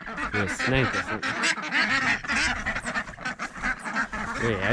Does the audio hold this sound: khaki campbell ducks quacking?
yes